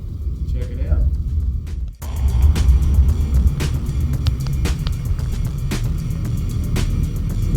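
A Plymouth Cuda with a 572 cubic inch Hemi rumbles steadily at idle, a deep throbbing engine tone with small surges, after a short pause near the start.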